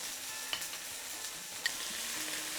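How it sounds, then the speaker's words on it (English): A soft, steady sizzle of chicken frying in a pan for lemon chicken, with a couple of faint clicks of a utensil touching the pan. "As the chicken starts sizzling,"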